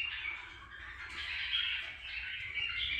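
Several birds chirp and squawk nearby, a busy scattered chatter of high calls over a low background hum, continuing throughout.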